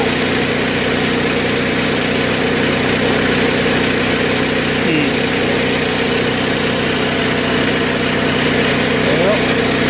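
A Kohler 7000-watt generator runs inside a bus, producing a steady, even engine drone throughout, close and constant without any surges or stumbles.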